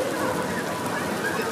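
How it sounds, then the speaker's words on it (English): Hailstones falling outdoors on a street in August, a dense, steady rattling patter across the whole stretch, loud and continuous with no pauses. "Hailstones. Look at them run."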